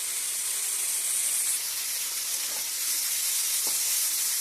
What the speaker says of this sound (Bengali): টমেটোটা এখন দিলাম এখন একটু ভালো করে কষিয়ে নেব